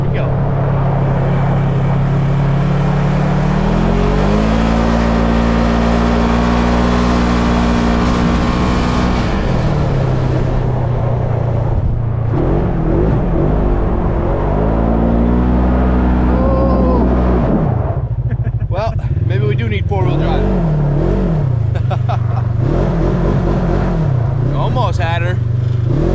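A side-by-side UTV in two-wheel drive works a dirt track, its engine droning loudly and rising and falling in pitch as it revs and spins, with someone talking over it at times.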